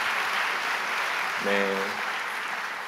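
A church congregation at a Sunday morning university service claps steadily in warm welcome, a dense even patter that fills the room while a voice briefly speaks over it.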